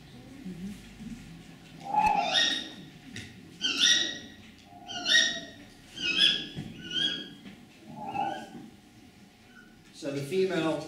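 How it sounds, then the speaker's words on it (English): Recorded tawny owls, a female giving shrill kiwik calls and a male hooting in reply; a series of sharp, wavering calls repeated every second or so, with low hoots beneath and a voice talking over them. "So the female tawny owl normally does the kiwik, and the male is hooting in response."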